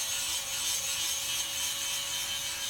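A wire brush on a bench grinder scours a forged horseshoe knife, a continuous loud, bright scratching whir with a steady motor hum underneath, no talk.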